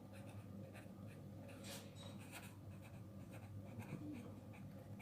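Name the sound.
writing on paper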